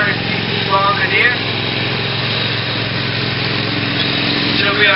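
A 400cc Bombardier ATV engine drones steadily at high revs during a pulling competition, loud and continuous throughout, with an announcer's voice heard over it.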